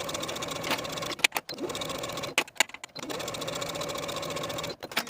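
A sewing machine bastes a jumpsuit waistband to a back bodice with a 1/4 inch seam allowance, running in steady mechanical bursts with a few brief pauses, close and fairly loud.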